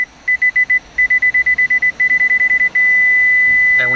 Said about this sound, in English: You get the warning. You get a beeping sound.